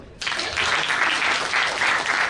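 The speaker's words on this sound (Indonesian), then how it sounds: "Sekali lagi aplaus untuk Bapak Ibu." An audience at a business seminar in Surabaya breaks into sudden, steady applause, a loud wash of clapping that starts abruptly and holds evenly throughout.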